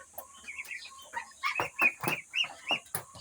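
Muscovy ducklings on a small backyard farm give a run of bright, repeated peeps, close and fairly loud, with a steady rhythm and no voices.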